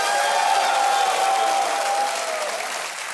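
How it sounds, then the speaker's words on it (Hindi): A studio audience on the Hindi quiz show KBC applauds together, a dense, steady wash of clapping that fades slightly toward the end, with no voices heard over it. "एक बार तालियों के साथ इनका फिर अभिनंदन हो जाए"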